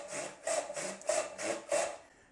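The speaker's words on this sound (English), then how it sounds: "Then I can drive the saw with my arm and relax my grip." A joinery hand saw cutting wood in steady, even strokes, five rasping push-and-pull passes in about two seconds, close and fairly quiet, with no talking.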